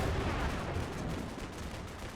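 Gunfire in the video game Combat Mission: Black Sea, a dense rumbling burst of shots and blasts that stays loud and unbroken for about two seconds with no voices.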